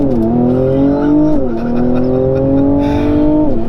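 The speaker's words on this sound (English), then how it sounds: "the first gear is short and it shoots you off the line in this car" A 2019 Mercedes-AMG C43 Coupe with 385 hp and a nine-speed gearbox launches hard from a standstill in Sport mode. The engine howls loud and close, rising in pitch through two quick upshifts.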